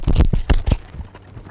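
A harnessed pair of horses stepping up into a trot while hitched to a driving pole, with a few close, distinct hoof clops and scrapes in quick succession before the sound thins into quieter ground noise.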